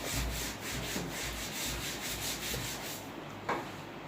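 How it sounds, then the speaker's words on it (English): A classroom board is rubbed clean in repeated scraping strokes with a steady rhythm, fairly close and continuous, with no voices over it. "Shall I rub the board?"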